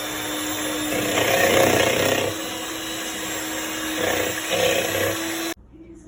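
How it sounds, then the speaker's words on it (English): An electric hand blender beats eggs in a bowl at medium speed for Passover brownies, giving a steady whirring motor hum that swells twice, then cuts off abruptly near the end. "you are going to go on medium speed with your blender for 5 minutes."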